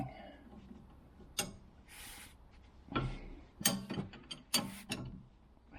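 A socket ratchet clicks on a sway bar bolt of a Dodge Challenger R/T, short bursts of sharp metallic ticking separated by pauses and small clanks, close and fairly quiet.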